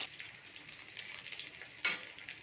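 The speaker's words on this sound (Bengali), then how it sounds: "তেজপাতা আর কাঁচা লঙ্কা দিয়ে দেবো কুচানো পেঁয়াজ লাল লাল করে দেবো" Chopped onions, bay leaf and green chili frying in hot oil make a faint, steady sizzle, with one brief sharper crackle near the end.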